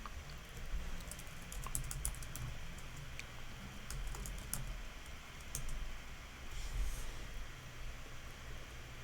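A computer mouse clicks while Control is held and the pointer drags elements into the Xcode assistant editor. Scattered sharp clicks sit over a steady low hum and background noise, with no voice.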